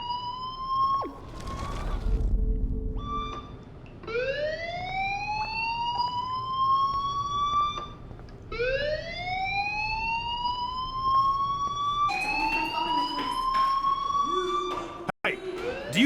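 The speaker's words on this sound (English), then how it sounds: "Hey, do you hear that fire alarm?" Alarm ringing inside a video game, a loud repeating electronic tone with rising sweeps that cycles steadily throughout, alone and with no speech.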